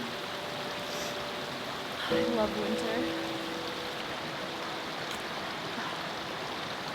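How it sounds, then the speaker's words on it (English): A river flowing through thick winter snow makes a steady, broadband rushing that runs continuously under a person speaking briefly. "The river sounds so beautiful."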